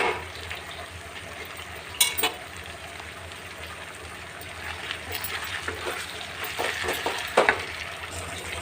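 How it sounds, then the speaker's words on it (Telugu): Fresh spinach leaves sizzling in hot oil in a pan, a steady moderate hiss with a few sharp clinks and scrapes of stirring, heard close with no voices. "ఇప్పుడు పాలకూర వేసుకుందామండి."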